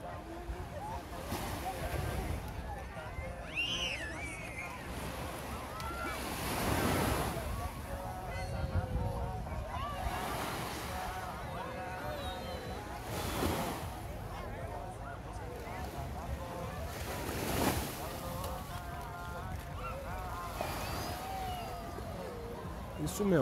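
Ocean waves roll in at Praia Martim de Sá beach in Caraguatatuba, with rushing surges every few seconds under wind noise and someone talking throughout.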